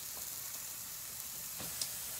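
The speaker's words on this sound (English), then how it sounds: "And the sizzling is the right noise." Steaks sizzle on a very hot broiler, a steady loud hiss of frying fat with faint pops and crackles scattered through it.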